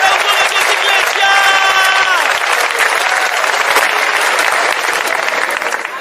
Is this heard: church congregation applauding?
yes